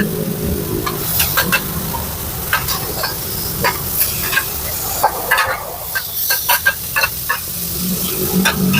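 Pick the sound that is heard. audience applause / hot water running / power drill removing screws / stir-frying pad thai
stir-frying pad thai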